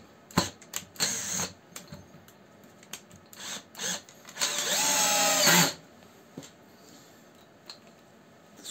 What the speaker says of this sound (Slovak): Skrutkovač.